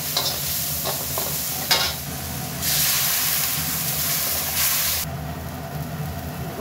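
A pan of thin tomato curry being stirred while it simmers and sizzles, with steady hiss and scraping across the whole stretch and a brighter burst of sizzle midway, no one speaking.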